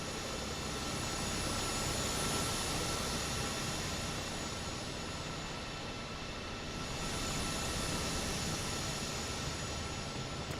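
SU5 helicopter engine in the MSFS 2024 flight simulator, a steady whining jet-turbine roar with no audible rotor chop, continuous and loud throughout with no talking.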